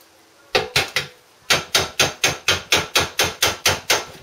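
A hammer strikes a hinge pin to drive it out and free the lid of a box: two quick blows, a pause, then about a dozen steady, evenly spaced metallic hits, loud and close, with no talk.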